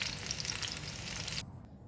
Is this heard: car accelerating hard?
no